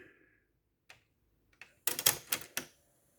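A Technics RS-TR265 cassette deck, under repair, engages play mode with a short cluster of sharp mechanical clicks and clunks after a few faint taps, then falls quiet.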